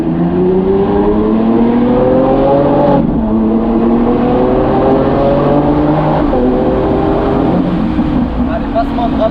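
Loud Lamborghini Aventador S engine heard from inside the cabin, revving up through gears with rising pitch and abrupt drops at each upshift, roughly two quick shifts in a row.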